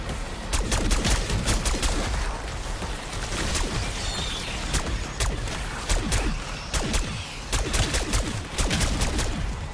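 Rapid bursts of gunfire in the video game Black Ops 6, dense overlapping shots and short volleys repeating steadily throughout at a loud, close level, with no talking.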